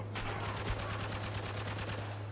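Rapid, sustained gunfire from the video game Spec Ops The Line, a dense string of evenly spaced shots with a steady low hum beneath, loud and continuous throughout.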